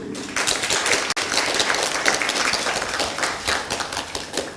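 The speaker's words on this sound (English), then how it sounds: "Let's clap for them." A room of people at a summer school closing ceremony claps warmly and continuously, dense overlapping handclaps at close range with no pause.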